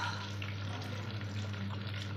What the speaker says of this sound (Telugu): సండే స్పెషల్ మా దగ్గర అయితే ఫిష్ ఫ్రై అంత చేస్తున్నాము.